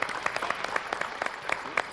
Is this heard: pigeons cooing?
no